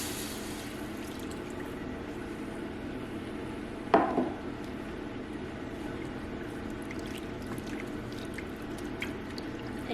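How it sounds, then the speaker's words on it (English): Half a cup of milk poured into a chicken pot pie roux, a steady quiet liquid pour with one brief splashy burst midway, close and soft over a low background hum. "you're going to add a 1/2 cup of milk"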